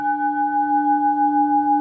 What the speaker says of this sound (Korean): 종소리가 들리죠?